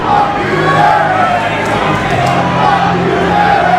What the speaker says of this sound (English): The crowd here at the Longboat Hall chanting